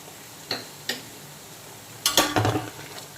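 Chopped green beans stirred in a frying pan for mixed fried rice: two sharp spatula clicks, then a cluster of quick scraping and tapping strokes against the pan over faint background hiss.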